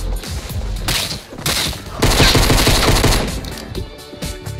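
Rapid bursts of video game gunfire in Fortnite Battle Royale, loud and close, in dense overlapping volleys with short gaps between them.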